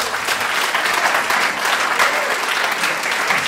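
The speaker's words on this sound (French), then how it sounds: "J'aimerais qu'on applaudisse Aristophane." A live audience at a reading of the Odyssey applauds in honour of Aristophanes of Byzantium, with dense, steady clapping that fills the whole stretch at a loud, even level and carries no talking.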